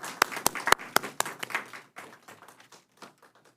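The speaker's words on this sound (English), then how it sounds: "y'all deserve a round of applause for what you've done" Applause at an evening school district board meeting, opening with a few sharp, loud claps that settle into a thinner scattering of clapping from a modest audience in a meeting room.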